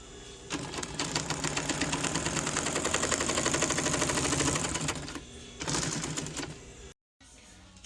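A sewing machine runs a French seam on a Dodge seat cover in two bursts of rapid, steady stitching, a long run then a shorter one, close and fairly loud, with a brief silent gap near the end.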